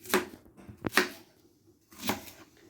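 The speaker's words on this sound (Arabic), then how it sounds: "اول حاجه هنمسك البصل هنقطعه بالطريقه دي" Onion being cut with a knife on a board, three distinct chopping strikes spaced unevenly, close and fairly quiet with near silence between them.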